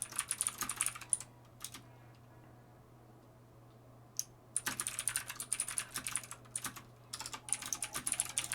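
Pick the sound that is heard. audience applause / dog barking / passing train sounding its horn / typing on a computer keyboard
typing on a computer keyboard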